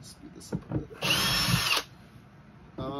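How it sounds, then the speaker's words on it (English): A power drill run at higher speed to back out the screws of a used speaker cabinet being refinished, whining steadily for about a second, with quieter handling noises before and after. "Let me get my drill in a higher speed here."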